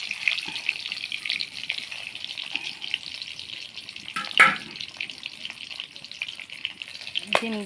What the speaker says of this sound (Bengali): তেলটা আমার গরম হয়ে গেছে, আমি ডিমগুলো দিয়ে দেবো একটা করে।